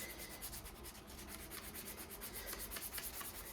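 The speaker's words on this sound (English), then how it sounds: "The reason behind me sanding my shotgun, bro, is because when I spray painted it" Hand sanding a shotgun's spray-painted finish, rapid rhythmic back-and-forth rasping strokes, close and continuous, with no talking.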